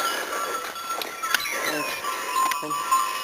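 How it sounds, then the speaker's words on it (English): Sheep and goats being driven out to pasture, with several bleats rising over outdoor background noise and faint clinking, fairly close, spread through the stretch. "Bringing the sheep and the goats to pasture for the day."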